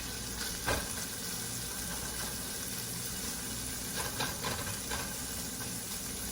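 Meat browning in a pan gives a steady, close frying sizzle and hiss, with a few brief louder spatters and stirring scrapes and no talking.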